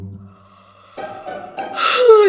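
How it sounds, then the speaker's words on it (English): A single drawn-out breathy yawn, starting low and quiet, then rising into a louder, higher open-mouthed exhale at the end. "I'm yawning and I can't stop"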